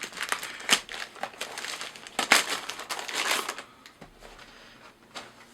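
Lightweight packaging from a Neewer TT520 camera flash being handled, giving bursts of crinkly rustling and crumpling close by, with quieter stretches between the louder handling bursts.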